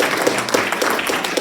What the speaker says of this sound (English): Can we have a big round of applause for us?